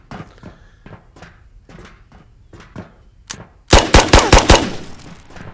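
Gunfire in the VR shooter Ghosts of Tabor: a loud, close burst of about five rapid shots near the end, after quieter soft thumps and footstep-like knocks.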